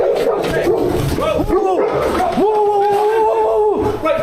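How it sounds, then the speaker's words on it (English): Dogs bark outside an abandoned building, a few sharp yelps followed by a sustained whining howl, with loud background noise and people talking nearby. "So you could hear the dogs outside?"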